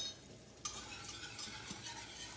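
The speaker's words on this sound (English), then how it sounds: "I like using a whisk." A whisk stirs all-purpose flour into fat in a pan for a white sauce, with quiet scraping strokes and light metallic clicks against the pan over a faint sizzle, close and gentle.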